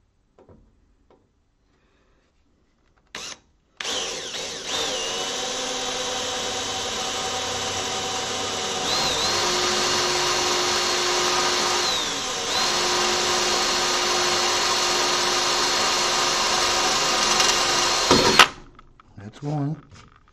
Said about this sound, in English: I'm going to have to drill and tap this out for a 3mm screw